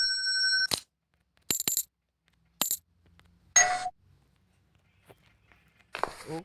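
Coins drop and clink in a gym simulator video game, several short bright metallic bursts spaced apart with near silence between them, the last one a longer jingling scatter.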